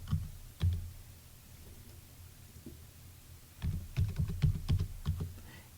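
Fingers tap login details on a computer keyboard, with a few isolated keystrokes early on, then a quick flurry of clicks near the end, close and fairly quiet.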